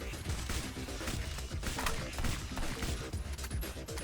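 Dual pistols in a video game fire in a dense, rapid stream of sharp shots that keep going without a break.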